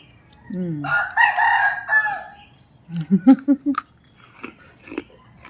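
Two roosters crow back and forth, one long call followed by a string of shorter, choppy crows, moderately near with a quiet yard behind.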